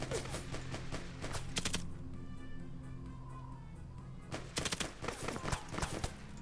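Bursts of gunfire in the Arma 3 Stalker bandit hunter scenario, clusters of rapid shots that stop and then come back, with a lull between them.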